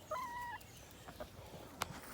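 Quiet outdoor farm scene with a short chicken cluck and a brief rooster call, faint and somewhat distant, with a few small sharp noises after.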